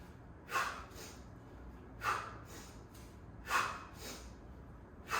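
Heavy breathing during an Indian club and macebell workout comes as four evenly spaced, forceful breaths, snort-like and close, with quiet pauses between them.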